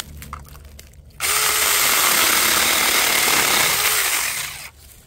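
A Saker mini electric chainsaw cuts through wood in a loud, steady buzzing burst lasting about three and a half seconds, with quieter idle moments before and after.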